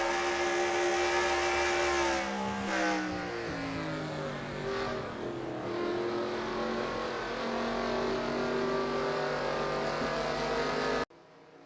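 Stock cars in the NASCAR Racing 2003 video game at an Oregon speedway, engines roaring loud and continuous with rising and falling pitch as cars accelerate together, cutting off abruptly at the end.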